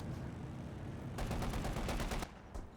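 An MG34 machine gun in Company of Heroes 2 rattles off a rapid burst of about a dozen sharp shots over a steady bed of battlefield noise, then falls quiet, with one more faint report after.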